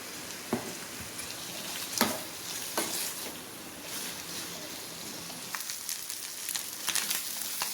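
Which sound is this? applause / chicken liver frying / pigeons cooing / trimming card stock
chicken liver frying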